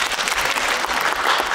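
An audience at a live spoken performance claps continuously, a dense, fairly loud burst of applause with no voices over it.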